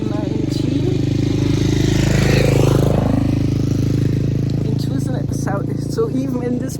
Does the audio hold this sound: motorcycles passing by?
yes